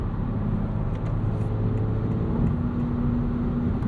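2025 Honda Civic Si with a 6-speed manual cruising on the highway at about 3,000 RPM, a steady low engine drone and road rumble throughout, with no talking.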